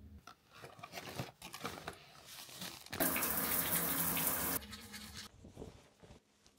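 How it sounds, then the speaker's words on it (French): Shower water runs during hair washing, first as scattered splashes and handling noises, then a loud, continuous spray for about a second and a half before it cuts back to quieter intermittent splashing. "je vais sauter directement à la douche, laver mes cheveux"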